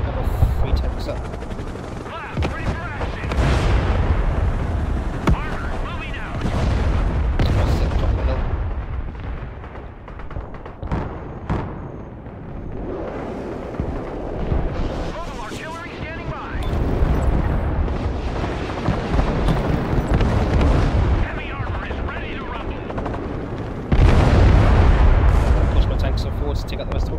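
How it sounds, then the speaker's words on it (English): Artillery barrages and explosions in the modern warfare game Broken Arrow, a dense run of heavy booms and rumbling blasts from tank combat, with a loud burst near the end, layered over continuous battle noise. "Artillery in combat, send your orders."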